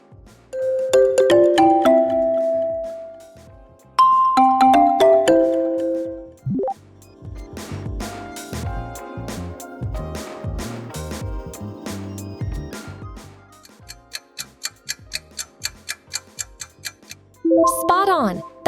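A Microsoft phone ringtone plays on its own, with bold chiming chords, a rising swoop, busy percussive plucked notes and a fast ticking pattern before a final bright flourish, loud and close.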